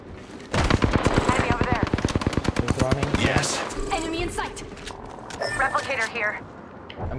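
Rapid automatic gunfire in Apex Legends rattles in a fast, even burst for about three seconds, then trails into scattered game effects and a voice speaking.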